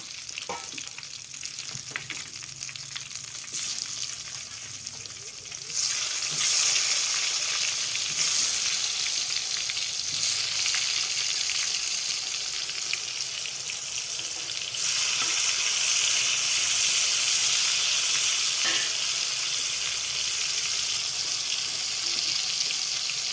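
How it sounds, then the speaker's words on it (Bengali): Potatoes fry in a generous amount of hot oil with a dense, bright crackling sizzle that swells louder after a few seconds and stays steady, close up, with a few faint knocks and no talking. "এরপরে আলু ভাজবো।"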